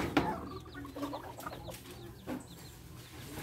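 Bantam chickens cluck softly and intermittently outdoors, fairly faint and low-key, while scratching in composting soil, with no talking.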